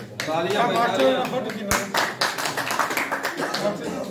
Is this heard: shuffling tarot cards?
no